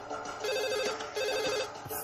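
Telephone ringing in a Telugu movie scene, a repeating electronic ring in two clear bursts, loud and close, with no talk over it.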